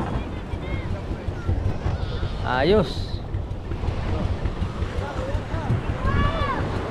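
A boat passes on open water, its motor and hull wash rising to a peak midway against wind buffeting the microphone, with brief speech and bird-like chirps nearby.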